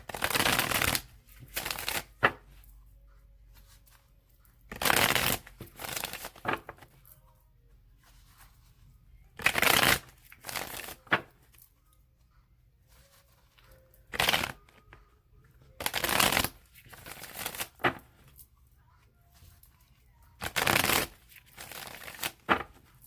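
A deck of cards being shuffled in repeated crisp bursts, roughly every few seconds, with quiet pauses between each riffle.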